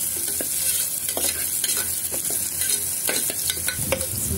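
Onions sautéing over low heat in a pan, sizzling steadily and loudly throughout while a spoon stirs and scrapes them in repeated soft strokes. No one speaks.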